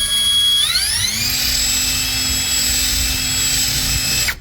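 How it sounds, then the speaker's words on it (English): Power drill spinning up and running steadily to enlarge a hole for a reverse-osmosis water filter hose, a loud high whine that rises in pitch after half a second and holds until it cuts off. "Now be careful when you drill, you don't drill through all the way"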